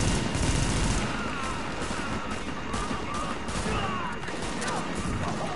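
Gunfire in Tom Clancy's The Division, a dense continuous rattle of shots in a New York firefight, loud and close throughout with no clear pauses.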